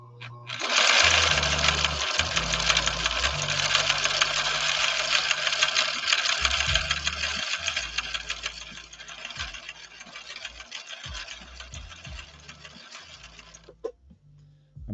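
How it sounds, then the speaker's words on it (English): A 1970s Viking Husqvarna Model 6030 sewing machine stitches a pattern in one long continuous run, its steady whirring hum close and even for most of the stretch before stopping near the end. "I'm trying to do a better job of sewing straight."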